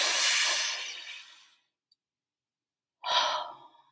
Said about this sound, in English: I want you to take a deep breath in.